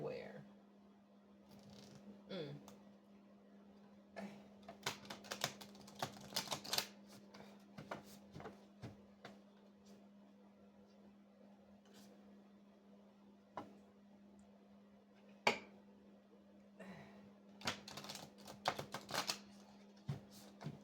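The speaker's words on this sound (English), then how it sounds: "These are my biggest cards, and they're the hardest ones to shuffle" Large tarot cards are shuffled in faint, scattered bursts of papery clicks and riffles over a steady low hum, with quiet pauses between handlings.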